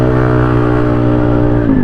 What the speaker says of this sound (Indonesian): ini baru ngegas dikit ya